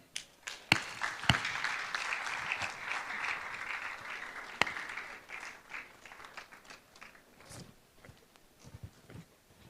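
An audience at the Adamawa Interactive Session 2025 applauds the guest speaker, a fairly soft, sustained patter of clapping with a few sharper claps standing out, slowly thinning toward the end.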